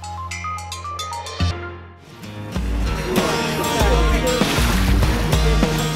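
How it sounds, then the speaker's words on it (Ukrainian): A motorboat slaps over sea waves off Sudak in Crimea, with a loud, steady rush of engine and water noise after a brief musical opening. "Катер підкидає, а бриз обдуває перших кримських курортників."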